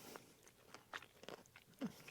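Someone bites into and chews a Reese's Spring Sprinkles Big Cup, producing a series of sharp, close crunches in an irregular rhythm. The crunches are soft overall and the chewing continues without speech.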